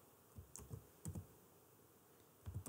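Faint keystrokes on a computer keyboard in three small clusters separated by pauses, quiet and close in a still room, no speech.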